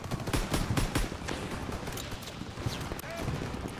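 Gunfire rattles through a World War II battle in Call of Duty WWII, with rapid shots and bursts layered over a dense, loud battlefield din while soldiers shout orders.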